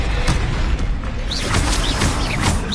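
A Confringo explosive spell goes off in Hogwarts Legacy, a sustained loud rumbling burst with crackling bright swooshes layered over game background, no talking.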